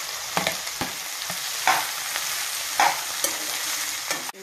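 Ridge gourd pieces and egg fry in a pan with a steady, close sizzle, broken by a few sharp scrapes and taps of a spoon stirring against the pan.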